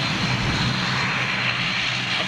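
A United Boeing 757 said to carry Rolls-Royce RB211 engines roars on takeoff, a steady, loud, broadband engine rumble with no fade across the short stretch and no voices.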